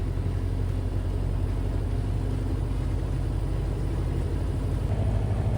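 A Ford Model A with a Mitchell synchronized transmission and overdrive drives along a road, its engine a steady, loud, low rumble from start to finish with no talking.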